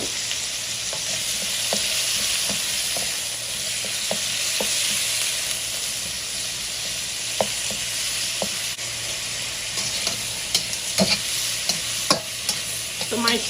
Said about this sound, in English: So my shrimp has been cooking for about a minute